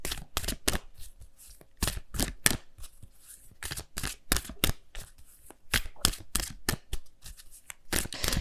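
Angel of Abundance oracle cards are shuffled by hand in quick, crisp bursts of riffling and slapping, close and loud, repeating in an irregular rhythm throughout.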